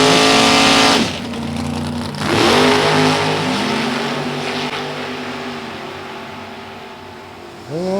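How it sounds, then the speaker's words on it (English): A Ford-powered 1965 Mustang with a 557-inch engine launches at a drag race, its loud engine roaring and revving hard off the line, dropping briefly between gear changes before a second car's engine surges in at the end. "that 557-inch Ford makes that little Mustang jump when it comes off the stop"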